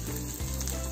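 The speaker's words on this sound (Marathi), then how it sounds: "फास्ट फ्लेम वरती हे छान परतून घ्यायचं" Green chilli and capsicum fry on a high flame, producing a dense, loud, continuous sizzle over a short stretch with no talking.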